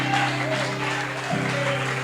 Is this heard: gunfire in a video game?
no